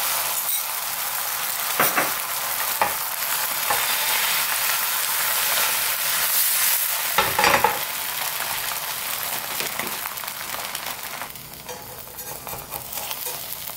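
A thin egg crepe sizzles in leftover oil in a pan for gimbap, with a steady close frying hiss and a few soft scraping touches, easing slightly toward the end.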